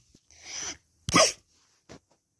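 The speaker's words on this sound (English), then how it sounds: "We've both sneezed at like the same time." Playful human sneezes, voiced for allergy-stricken plush toys: a drawn-out breathy buildup, then a sharp, loud sneeze and a shorter soft one after, close and with no other sound.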